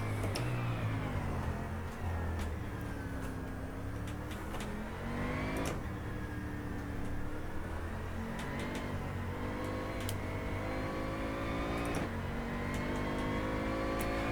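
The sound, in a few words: Bentley Continental GT car engine driving in rFactor 2 video game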